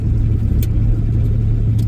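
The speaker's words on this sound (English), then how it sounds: "This truck feels so good pulling." A pickup truck pulling a heavy load of water, around 9,500, in bitter cold gives off a loud, close, steady low diesel engine rumble with no let-up.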